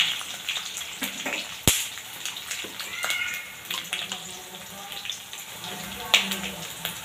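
Mustard seeds and curry leaves fry in hot oil, with a crackling sputter and a few sharp pops and clinks of a utensil in the pan, close by and uneven.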